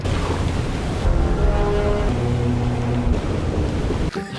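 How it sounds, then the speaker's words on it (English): Roar of the most powerful waterfall in Europe in North Iceland, a dense, constant rushing wash that stays loud and unbroken throughout, with no talk. "That is apparently the most powerful waterfall in Europe"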